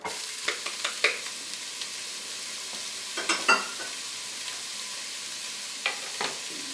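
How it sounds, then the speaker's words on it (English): Onions and carrots sauté in hot oil for Italian wedding soup: a low steady sizzle broken by several sharp scrapes and clacks of stirring, close and fairly quiet, with no talking. "We're going to go in with our onions and carrots to start and saute those off."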